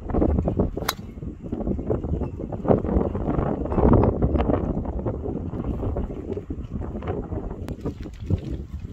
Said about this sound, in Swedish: det är mycket vind idag så vi får se hur spelet blir